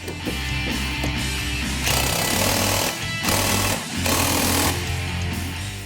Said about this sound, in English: the last step is to tighten the nut for the strut